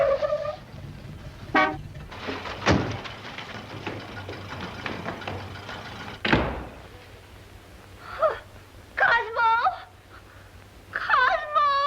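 Car horn honking outside in a classic comedy film, several short toots spread apart, with a thud and a door slam among them, heard over a faint hum without talk.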